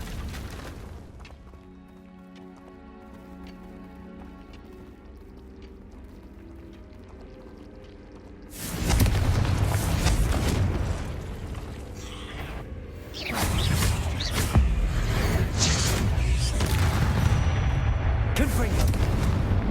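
Confringo blasting spells erupt in Hogwarts Legacy: a stretch of quiet music gives way to loud, booming, broadband explosions that hit repeatedly and rumble on through the second half.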